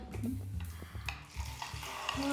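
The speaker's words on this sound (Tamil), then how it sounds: "இப்போ அரைச்சி வச்ச மசாலா கலந்துடலாம்" Ground masala being stirred into mutton chops gravy in a pan, with scraping strokes of a spoon against the metal over a soft sizzle, repeated in an uneven rhythm close up.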